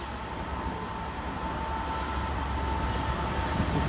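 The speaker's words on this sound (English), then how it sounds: "And train 3 also approaching the area." A train approaches with a steady, even rumble and a faint sustained hum that builds very slightly, heard from a distance with no talking.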